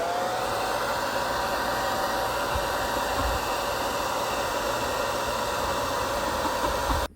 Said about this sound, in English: we're gonna take our hair dryer on a low warm setting, and we're gonna finish drying her off